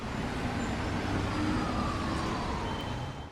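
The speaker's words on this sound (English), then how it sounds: "a lot of the sirens and stuff have been changed. So we also got ambient noise" Steady traffic ambience with a faint wailing emergency siren sweeping through it, from the EmergeNYC emergency-response video game; continuous, moderately distant hum with no talk.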